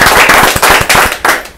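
Loud, dense audience applause welcoming Chancé at a live show, a fast rhythmic clatter of many hands that swells and dips over a moment.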